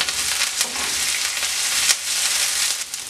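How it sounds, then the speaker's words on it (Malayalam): Green chillies and curry leaves sizzle in a pan with browned ginger and garlic, a steady loud frying hiss throughout with brief spikes of spattering, no talk. "ഇനി നമുക്ക് പച്ചമുളകും കറിവേപ്പിലയും ചേർത്ത് കൊടുക്കാം."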